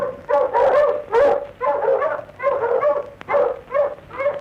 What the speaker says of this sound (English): the dogs were barking